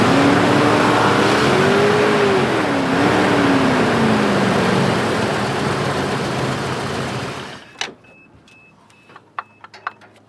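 An old car engine runs loud and steady with a rough, broadband roar, then cuts off abruptly, leaving a few faint clicks and taps in near silence.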